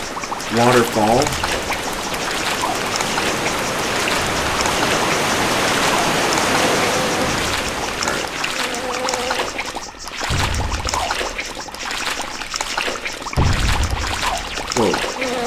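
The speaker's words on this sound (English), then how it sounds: "There's the waterfall." Rushing water of a waterfall in the video game Hunter, a steady broadband wash that stays loud throughout, briefly broken by a few short tonal game effects, with a voice talking over parts of it.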